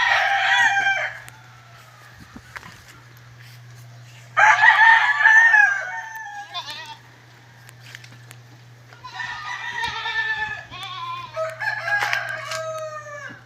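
Native chickens with chicks: a rooster crows loudly and close in a couple of long calls, with clucking and chick peeps in between, over a steady low background hum.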